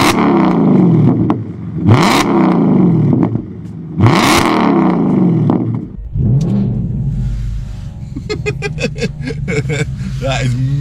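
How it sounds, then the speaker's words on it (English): VAG car engine revved hard three times in sharp rising and falling bursts, then a rough start-up clatter settling into a close idle with rapid ticking. "Let's get the engine started, yeah?"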